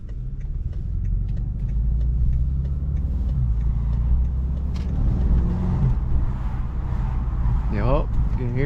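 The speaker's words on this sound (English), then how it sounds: "you can hear the turbos a little bit" BMW driving through a downtown city, its engine and road noise a steady loud rumble throughout, with faint turbo whooshes barely rising above it and people talking inside the car.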